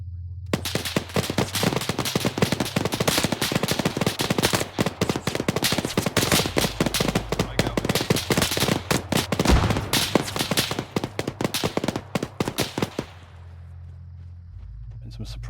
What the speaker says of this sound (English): We'll try and do some suppressing fire.